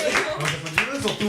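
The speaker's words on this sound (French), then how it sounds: "on les applaudit eux. On vous applaudit." A few hosts clapping in a small studio talk show, scattered claps mixed with their chatter and laughter.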